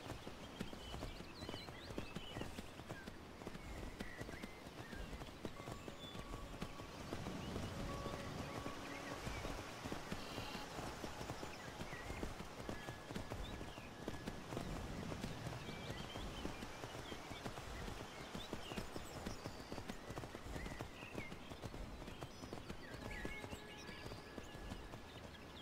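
Steady hoofbeats of a horse carrying its rider in Skyrim, a fast, even clatter running continuously and fairly faint under a dense wash of ambient noise, with no voices.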